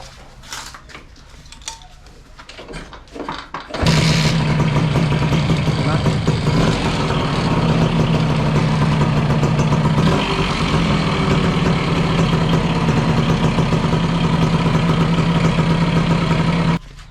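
A Suzuki X4 motorcycle fitted with a Faito racing ignition coil and separate CDI fires up after a few seconds of quiet clicks and handling, then settles into a loud, steady idle that runs on continuously to the end.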